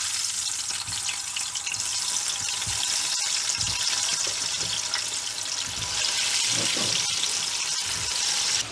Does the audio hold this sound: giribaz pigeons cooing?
no